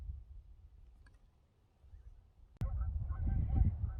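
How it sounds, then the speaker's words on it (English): Geese honking at a distance, faint calls over outdoor background noise, then a sudden louder rustle near the end. "You can hear the geese."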